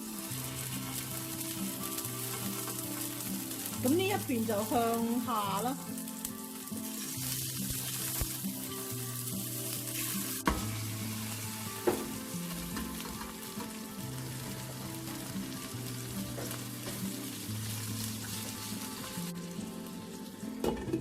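Salt-baked marinated chicken wings sizzle in a little hot oil in a pan under background music, with a brief spoken remark and a couple of sharp clinks.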